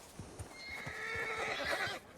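A horse in the Red Dead WildRP game lets out a whinny while hooves clip-clop in a steady rhythm underneath, the neigh rising and falling quietly over the footsteps.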